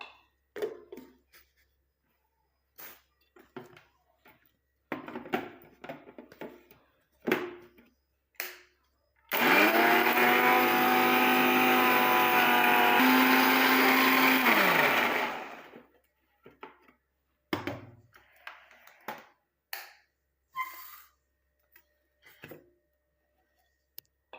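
A kitchen mixer grinder blends leaves into a fine herbal hair-dye paste, running as a loud, steady whirring motor burst of about six seconds. Its pitch falls slightly as it spins down, with talking and small handling clicks before and after.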